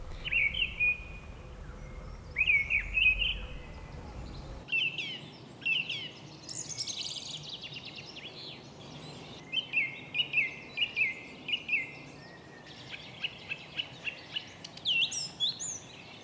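Thrushes singing in late winter, a sequence of bright whistled phrases and short repeated chirps in bursts, clear and fairly close with quiet pauses between.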